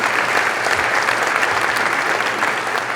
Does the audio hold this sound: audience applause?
yes